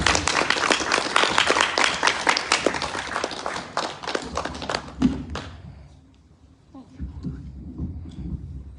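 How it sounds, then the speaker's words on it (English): A talk audience gives a round of applause, with dense clapping that thins out and fades after about five seconds. Scattered claps and voices follow. "Everyone give him a round of applause, please."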